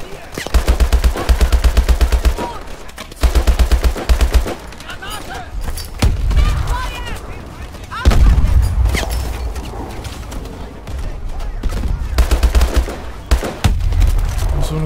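Automatic weapon fire in the Call of Duty Advanced Warfare video game: loud, close bursts of rapid shots alternating with sustained rattling gunfire and heavy rumbling, continuing throughout.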